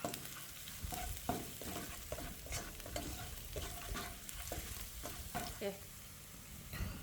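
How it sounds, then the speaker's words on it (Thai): Crushed dried chilies stir-fry in a hot pan, a soft continuous sizzle under repeated scraping and clacking strokes of a spatula, close and moderately quiet. "ผัดแป๊บเดียวก็เหลืองหอมแล้วล่ะครับ"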